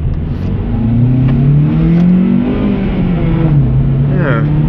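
Engine revs and pulls under acceleration from inside a moving car with a lightweight build, the pitch rising and falling as gears change, loud and close, with a voice talking over it.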